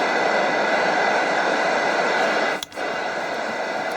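A Roberts R200 radio tuned to long wave gives off a steady, odd-sounding hiss and hum with a brief dropout partway through; no voices.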